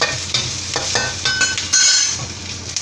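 Garlic fries in butter in a pan, sizzling and crackling up close while a utensil stirs and scrapes in quick, uneven strokes.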